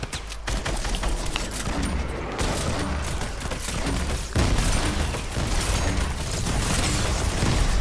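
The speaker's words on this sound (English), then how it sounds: "This grenade launcher is so overpowered" A grenade launcher fires during a horde-style video game battle against husks. Loud, dense bursts of blasts and gunfire overlap almost without a break for the whole stretch.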